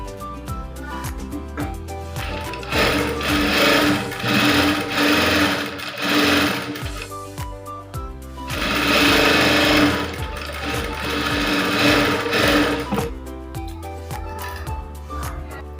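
A sewing machine stitches the front part of a blouse in two steady runs of rapid mechanical whirring, with brief quiet pauses around the start and between the runs.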